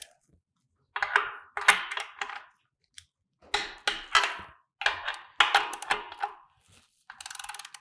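A wrench ratchets in quick bursts of clicks while a Ford equipment connection fitting is tightened to torque, with short pauses between pulls and a faint buzzy burst at the end.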